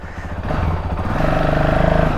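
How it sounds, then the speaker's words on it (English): A 2022 CRF450RL dirt bike engine idles close by and then revs up, its rapid putter growing louder and steadier. "If you just give it a little bit of revs, it will stay on."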